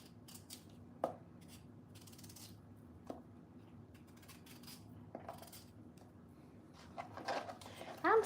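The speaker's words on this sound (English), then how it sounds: "as I'm sitting here cutting these potatoes and how I'm able to cut the bad spots out" A knife cuts through potatoes and trims away rotten spots, giving a few faint, isolated taps and clicks spaced a couple of seconds apart, quiet and close, with a slightly louder clatter near the end.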